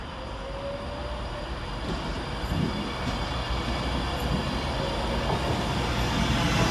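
A departing Avanti West Coast class 390 electric train, 390.044, at Stockport railway station, with a broad rumbling roar that swells and holds steady at close range, and no voices.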